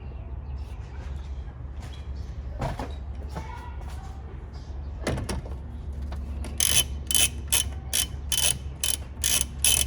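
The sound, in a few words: ratchet with 10 mm socket unbolting airbox bolt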